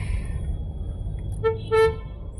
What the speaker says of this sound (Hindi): इस टाइम पर ट्रैफिक काफ़ी ज़्यादा होती है।